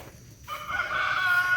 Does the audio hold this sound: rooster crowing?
yes